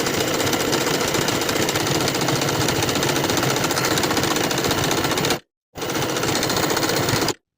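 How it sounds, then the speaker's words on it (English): A sewing machine runs fast and steady, stitching a leggings waistband with a stretch stitch, a loud continuous whirring rattle that stops briefly, resumes, then cuts off. "Now we can sew all the way around with a 1/2 inch seam allowance and a stretch stitch"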